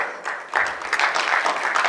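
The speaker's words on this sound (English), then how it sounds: "Please give the big hands to the applause." Audience at a Swami Vivekananda Jayanti university event breaking into applause after a speech, clapping swelling from a soft start into a steady, moderately loud patter.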